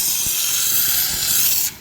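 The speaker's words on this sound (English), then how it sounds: "you got your little steam machine here" A handheld steam machine hisses steadily and loudly while peeling tint film off a Toyota Aristo's car window, a continuous close spray of steam with faint rubbing underneath that drops away abruptly at the end.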